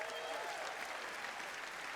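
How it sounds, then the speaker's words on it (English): Audience applause at the ESPYs awards show, a dense, steady wash of clapping from a large crowd filling the room at an even level throughout. "Give it up for Brittany, everybody."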